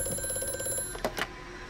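In the video game Amnesia: A Machine For Pigs, an old-fashioned telephone rings with a steady repeating bell, then a couple of louder metallic clunks, fairly close with no voices.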